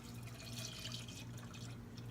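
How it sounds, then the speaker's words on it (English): Milk pours steadily into a thickening sauce for a potato dish, a continuous close liquid splash and trickle that holds evenly for about two seconds with no talking. "And then you pour your milk in."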